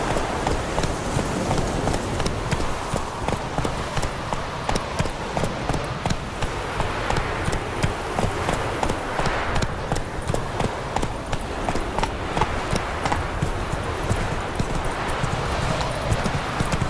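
Roach the horse gallops in The Witcher 3, hooves drumming in a steady, fast clip-clop rhythm that stays close and even throughout, with faint background ambience.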